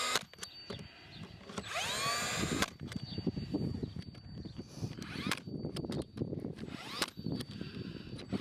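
A power tool nails small wooden battens on the cladding of a circus caravan, giving sharp, repeated bursts mixed with whirring mechanical sweeps, loud and close, in irregular clusters with no talk.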